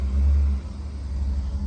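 A truck backs a boat trailer down onto a sandy pond beach, its engine giving a deep, close rumble that swells early, then settles into a lower steady drone.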